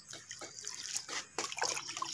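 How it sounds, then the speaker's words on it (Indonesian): Chili seedlings in polybags being watered in a home garden, soft splashing and trickling bursts as water pours onto the soil, quiet and close with no voices. "Ini tinggal kita siram aja ya teman-teman."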